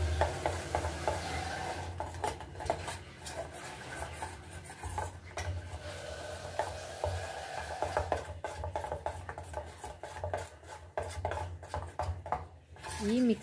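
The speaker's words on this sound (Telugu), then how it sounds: "ఒకసారి మిక్స్ చేసుకోవాలి." Egg bajji batter with baking powder added is mixed in a bowl, a utensil scraping and clinking against the sides in a steady, close run of stirring strokes.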